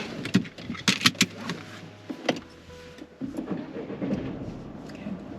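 A car is readied and started before driving: keys jangle, sharp mechanical clicks and knocks sound up close, then a low engine hum settles in beneath quieter cabin rustling.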